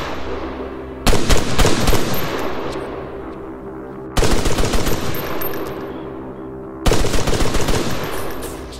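Three loud automatic-fire bursts from ARMA 3, each lasting about two seconds and separated by quiet pauses filled with a lingering rumbling echo.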